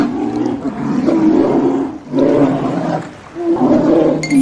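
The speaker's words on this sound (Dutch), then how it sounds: "Het is de ijsbeer." Polar bear roaring in three long, loud, rough bursts separated by brief pauses, with no talking.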